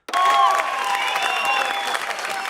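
Comedy show audience bursting into applause and cheering, starting abruptly and holding at a steady level, with laughter and whoops mixed into the clapping.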